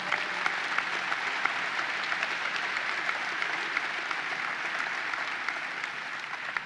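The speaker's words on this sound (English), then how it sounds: "Give him a round of applause." An audience claps loudly and steadily at the opening ceremony of the New York State Fair, a dense sustained burst of applause from a sizable crowd.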